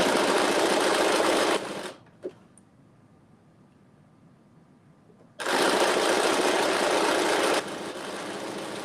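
A sewing machine stitches along lined-up raw fabric edges in two loud, steady bursts of rapid motor whirring separated by a quiet pause of about three seconds.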